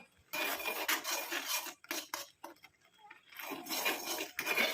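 A spoon scrapes and rasps around a pan while stirring a thick homemade hair dye mixture on a stove, coming in close, quiet bursts of rubbing with brief pauses in between.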